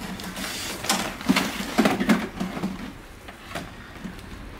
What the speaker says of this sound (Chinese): 哎呀，这个打印机嘞